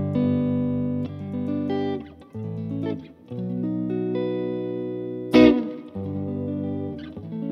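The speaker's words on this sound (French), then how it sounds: "là, c'est le son de la C30 qui est là derrière" Electric guitar played through a Klon Centaur clone overdrive pedal into a Vox AC30 amp: sustained overdriven chords and notes ringing one after another, with a sharp pick attack near the end, close and loud, no talking.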